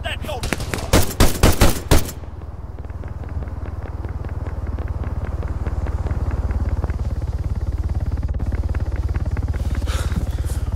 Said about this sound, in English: Kerry, fire at that soldier!